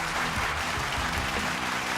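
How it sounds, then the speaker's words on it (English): Steady, dense applause from a crowd of Yankees fans, continuous and fairly loud for about two seconds with no voices on top. "Clap it up, everybody."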